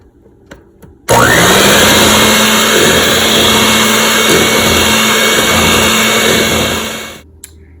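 Electric mixer whirring steadily through buttermilk pancake batter with vanilla just added, loud and close, starting abruptly and running about six seconds before winding down, with no talk.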